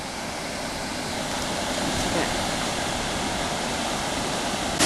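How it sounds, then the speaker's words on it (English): Pecca Falls on the Ingleton Waterfalls Trail in the Yorkshire Dales, heard from a bridge: a broad, loud, constant roar of falling water with no breaks. "We're at the Pekka Falls viewing area, and we hope to see a few waterfalls on our way up now."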